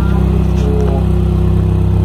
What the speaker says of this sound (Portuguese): esse é o barulho aí da descarga